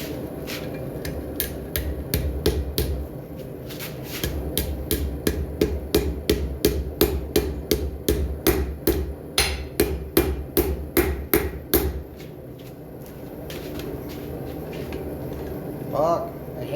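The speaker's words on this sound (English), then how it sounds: "I want the round peen, and we're going to use the step of the anvil here to brace it on 3 sides" A round peen hammer beats metal braced on the step of an anvil, striking close and loud in a steady, even rhythm for about twelve seconds before the blows stop and only quieter handling remains.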